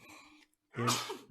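A single loud sneeze bursts out close to the microphone after a brief pause, preceded by someone talking, with a breathy, explosive onset.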